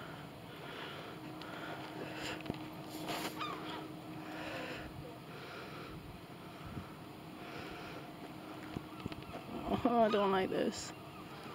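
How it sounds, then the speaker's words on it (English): Seagulls call outdoors in gusty wind, with a burst of sharp, squawking cries near the end over steady wind noise. A person speaks briefly. "Oh God, bloody seagulls."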